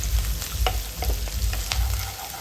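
Green and dried red chillies frying in oil in a pan for dragon chicken, a loud continuous sizzle with repeated scraping stirs of a spoon against the pan.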